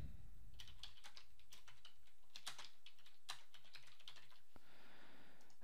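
Fingers typing a file name on a computer keyboard, a fast uneven run of light, close key clicks over several seconds that ends with a single sharper keystroke, with no talk.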